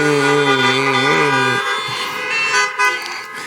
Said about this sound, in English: please honk your horns.